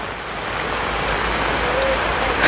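Steady rain falling outdoors, a dense even hiss of drops that stays constant throughout, with no distinct voices on top.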